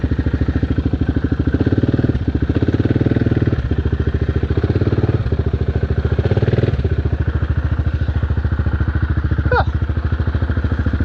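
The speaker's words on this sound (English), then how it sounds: "Bike stuck." A motorcycle stuck on the old Congo road, its engine thumping loud and close in a fast steady beat, revving in surges with a brief rattle near the end.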